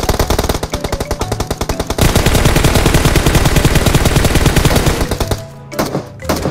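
Rapid automatic gunfire in PUBG Mobile pounds loud and close in long sustained bursts, with a short gap and a few final shots at the end and no talking.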